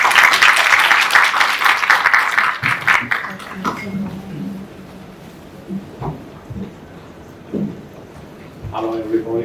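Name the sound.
audience applause welcoming a speaker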